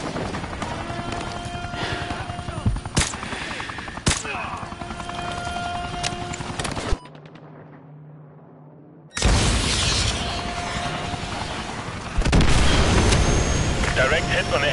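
A missile explosion strikes an enemy helicopter in Call of Duty: Modern Warfare 2 Remastered, with loud, dense booming blasts and rumble, a brief quieter gap, then a renewed heavy roar.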